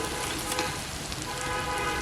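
Ground spice paste for a duck and potato curry hits hot oil with lightly fried onion, giving a steady, close, even sizzle for the whole stretch with no voices.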